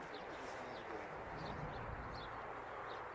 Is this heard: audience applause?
no